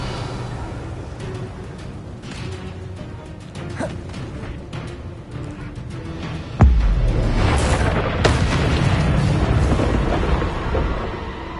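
Confringo blasting spell cast in the Hogwarts Legacy video game, a sudden heavy boom that hits hard and then rumbles on loudly amid busy, continuous game sounds.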